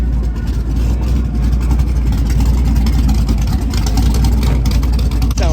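A V8-swapped Mini Cooper with its exhaust exiting at the front idles with a deep, lumpy rumble at a crowded car show, loud and close, with crowd noise around it.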